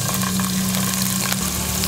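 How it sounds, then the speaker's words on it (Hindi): Finely chopped garlic frying in three to four spoons of cooking oil in a pan gives a loud, steady, close sizzle that runs without a break. "लहसुन को हम थोड़ा सा भूनेंगे"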